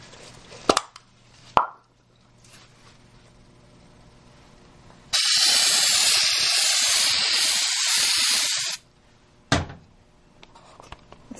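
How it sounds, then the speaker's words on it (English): A steady aerosol spray of pre-print fixative hisses across golf tees for about four seconds, loud and close, between a few sharp knocks and taps. "Simple spray across the top of the tees to prepare for printing."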